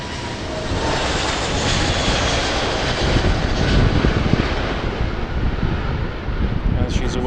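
A passenger airplane takes off at Amsterdam Airport, with a loud, broad engine roar building and holding steady alongside some wind noise, with no voices.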